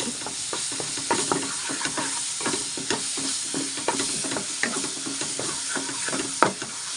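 Chana masala with cumin powder stirred in an oily pan, with a steady loud sizzle and hiss running throughout and frequent spoon scrapes and clicks close by.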